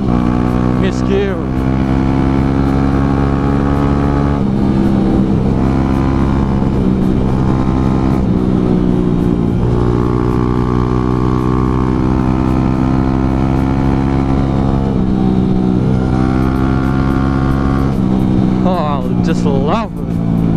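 A new motorcycle's engine hums steadily while being ridden, with a low droning tone that shifts in pitch as the rider changes speed. Someone talks over it almost throughout.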